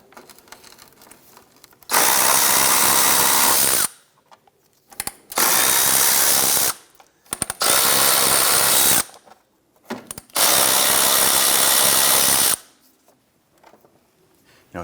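A power tool whines in loud bursts of a couple of seconds each while loosening and removing 10mm radiator bolts on a 1992-1996 Toyota Camry 2.2L I4, with quiet gaps between four main runs.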